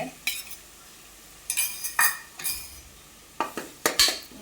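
Ginger garlic paste and onion fry in a pan for a mutton dish, with a low sizzle under sharp spoon scrapes and pot clanks coming in irregular bursts, close and without speech.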